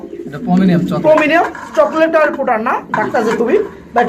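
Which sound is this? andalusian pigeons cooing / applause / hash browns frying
andalusian pigeons cooing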